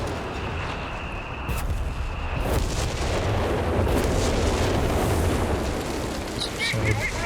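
Artillery barrage in the video game Company of Heroes 3, with shells pounding a mortar position in a 2v2 match: a dense, continuous rumble of booms and bursts under steady background battle noise.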